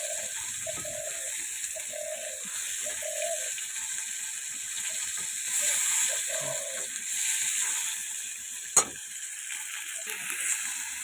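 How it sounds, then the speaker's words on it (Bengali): Fish frying until crisp in a pan at home, a steady close sizzle with small scattered clicks and scrapes and one sharp knock near the end. "এই যে মাছগুলো ভাজা করে নিচ্ছি একটু কড়া কড়া করে"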